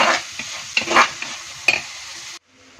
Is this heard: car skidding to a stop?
no